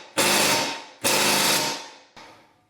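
Power tool hammering at corroded, seized parts on a Kona Fire Mountain bike: three loud, harsh bursts, the first two about a second long each, the last shorter and weaker, with no talking.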